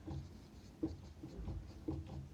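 Chalk or marker taps and scratches on a board during a fluid mechanics lecture on pressure measurement, a few faint, spaced knocks and strokes in a quiet, roomy space with no talk.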